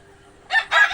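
Egyptian Fayoumi laying hens give two short, loud bursts of clucking and squawking close by after a near-silent start.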